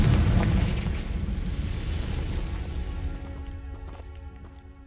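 A Confringo fire spell bursts in Hogwarts Legacy, opening with a loud, heavy boom that rolls into a sustained crackling rumble and fades over several seconds, with faint game sounds behind it.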